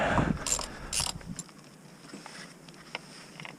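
A ratchet on an extension loosens a bolt on an Acura TL SH-AWD intake: a short burst of quick clicking up front, then quiet workshop background with a few faint knocks.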